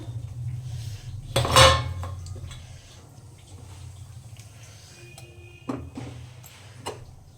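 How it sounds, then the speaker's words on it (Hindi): Spinach and tomato drop into a cooking pan for an aloo gobhi sabzi, with one loud clattering rustle followed by a few softer metallic clinks and taps in a quiet kitchen. "इसमें हम पालक टमाटर को डाल देते हैं"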